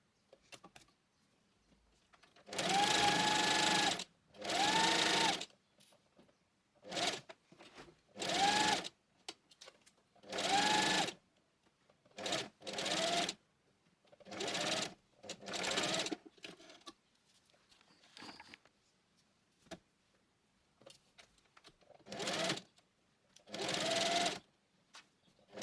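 A sewing machine stitches the side seams of a top in repeated bursts of fast, whirring needle runs, each a few seconds long and separated by short quiet pauses, recorded up close in a quiet room.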